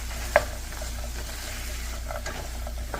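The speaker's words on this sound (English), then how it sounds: "Okay, so I added the garlic. Now I'm gonna add this, the plant-based steak. Yeah, Beyond Steak" Plant-based Beyond Steak fries with garlic in a pan, making a steady close sizzle with a sharp clink of stirring near the start and a few softer scrapes later.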